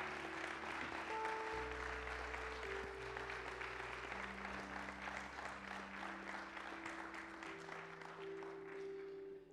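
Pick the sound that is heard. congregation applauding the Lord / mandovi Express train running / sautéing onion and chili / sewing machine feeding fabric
congregation applauding the Lord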